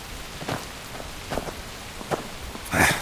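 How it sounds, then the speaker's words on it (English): Rain patters steadily on a surface, with a few louder splashes against a soft wash of falling drops and no voices. "Damn this rain!"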